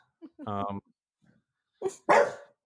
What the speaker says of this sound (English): when he hears her bark, he thinks he has to go protect the house